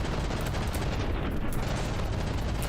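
Cram cannons firing in the vehicle-combat game From the Depths, a dense, continuous roar of heavy booming blasts with no gaps, loud and close throughout.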